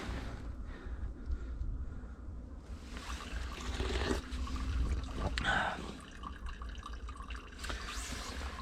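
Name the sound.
small trickle of spring water running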